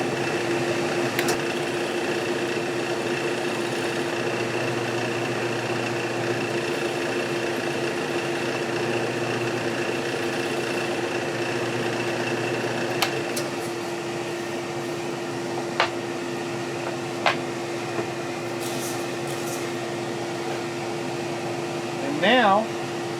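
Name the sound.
drilling a countersink hole in wood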